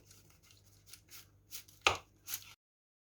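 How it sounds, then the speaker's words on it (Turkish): A knife trims the edges of a block of dough for a lemon pie, giving several soft, close taps against the board and one sharp louder chop near the end before quiet. "Qıraqların kəsirik güzəldə."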